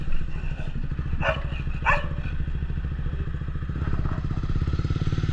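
Dogs bark sharply twice near a KTM RC 390 motorcycle, with a further fainter bark later on, all over the bike's steady idling engine drone.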